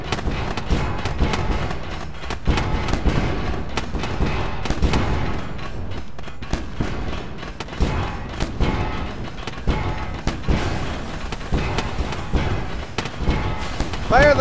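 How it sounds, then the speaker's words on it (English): Spaceship auto cannons fire in the space combat game Wayward Terran Frontier, a dense run of loud rapid booms and thuds with crackling bursts, continuing under intermittent talk. "Come on, auto cannons."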